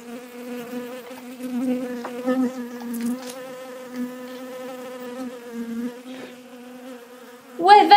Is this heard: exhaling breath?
no